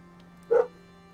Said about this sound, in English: If you guys hear a dog barking, it's my dog.